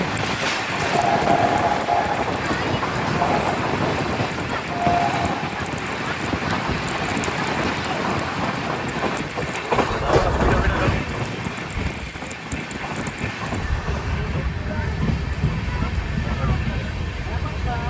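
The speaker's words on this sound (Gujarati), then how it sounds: "131ની સ્પીડે ટ્રેન ચાલી રહી હતી." Bandra Terminus–Mahuva superfast express running at about 131 km/h, a loud, steady broadband roar of wheels and rushing air throughout, heard from on board with no pauses.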